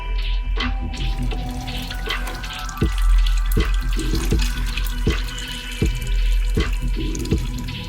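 Transmission fluid from a BMW M3 DCT gearbox runs steadily into a catch bucket, a close, continuous liquid pour with occasional drips and small knocks scattered through it.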